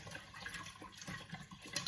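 Warm water poured from a kettle into a container for making water kefir, a steady soft splashing and trickling stream running throughout, fairly quiet and close, with no talking.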